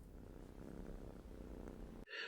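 A pet cat purring while being stroked, a low, steady, rumbling purr held close up and continuous, ending in a brief sharp noise.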